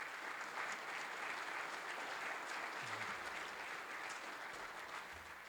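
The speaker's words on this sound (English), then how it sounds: "Big round of applause for our sponsors" Steady applause from a conference audience honoring event sponsors at a real estate gathering, a dense even wash of clapping sustained throughout at moderate distance.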